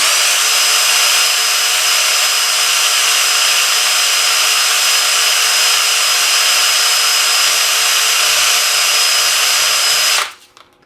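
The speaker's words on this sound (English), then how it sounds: "carefully wrap the sandpaper around the plunger and turn the drill on" A drill spins 1200-grit sandpaper wrapped around the plunger of a 1939 Rittenhouse 8-note Westminster chime, a loud steady high whine lasting about ten seconds before cutting off abruptly.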